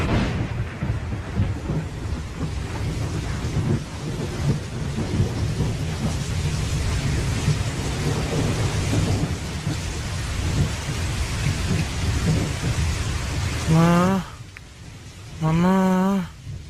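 Heavy rain pours steadily and loudly with rolling thunder rumbling beneath it, and near the end a voice speaks twice in a pleading tone over the downpour.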